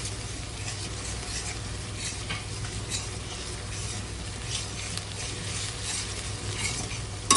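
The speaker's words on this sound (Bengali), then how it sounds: "এবার দিয়ে দিলাম নুন, হলুদ আর গুঁড়ো লঙ্কা দিয়ে গ্রেভিটা সুন্দর করে আমরা কষাতে থাকবো।" Gravy seasoned with salt, turmeric and chili powder is sautéed in a pan, a continuous close sizzle with soft rhythmic stirring and light scraping throughout, and no one speaks.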